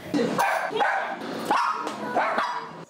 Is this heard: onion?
no